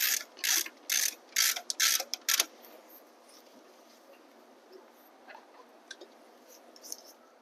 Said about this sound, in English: And be sure to tighten your wheel all the way down.